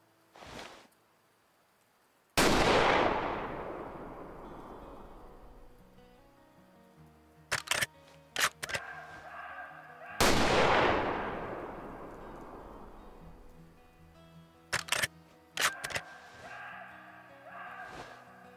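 Rifle shots from a Christensen Arms rifle in the hunting game Way of the Hunter, two loud cracks each rolling into a long echoing tail, followed by short clicks of bolt cycling, with no talk.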